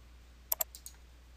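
Mouse clicks on an OK button in Excel: two sharp, close clicks in quick succession, then two softer release-like clicks, alone against quiet room tone.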